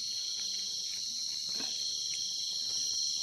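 Continuous high-pitched chirping of small crickets, a steady dense trill throughout, with faint scattered background sounds.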